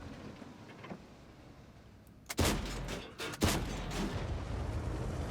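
Blind cannon shots fired from a Chieftain tank in a tank video game, two sharp loud booms about a second apart after a quiet stretch, each with a short rumbling tail over steady engine and ambient noise.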